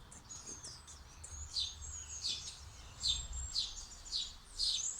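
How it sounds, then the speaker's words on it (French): Small birds chirp in quick repeated bursts at 7:18 in the morning, a bright twittering that comes and goes against a quiet, faint background. "Vous entendez les petits oiseaux chez moi là?"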